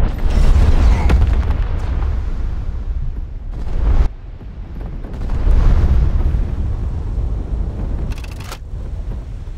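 Naval combat in the War Thunder Mobile video game brings heavy low booms and rumbling blasts from a torpedo launch and explosion, with sharp mechanical clicks in between and deep rolling noise filling the clip.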